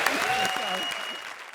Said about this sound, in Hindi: ज्यादा तालियां बजाओ।